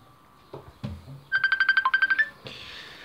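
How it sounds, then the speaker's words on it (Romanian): A phone rings for an incoming call, a short burst of rapid electronic trill pulses preceded and followed by a few brief background noises. "Da, mă sună un prieten."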